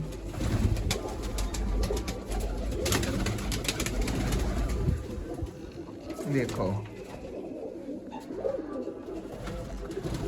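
Pigeons in a loft coo steadily at close range after being fed and watered, the calls running under someone talking and some handling noise.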